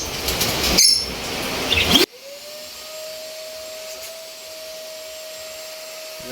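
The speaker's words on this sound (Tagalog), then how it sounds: "Ito gamit ko na vacuum." A loud whooshing burst at the start, then a steady, quieter motor whine holds an even pitch for several seconds, a vacuum cleaner running nearby while cleaning up bird nest debris.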